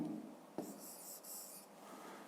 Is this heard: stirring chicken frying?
no